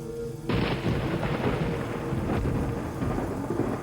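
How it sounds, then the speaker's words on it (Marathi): Heavy night rain pours down, and a sudden loud crack of thunder breaks in about half a second in. The rumble rolls on over the steady hiss of the downpour. "अशा मिट्ट रात्री मुसळधार पावसात भयाण वातावरणात"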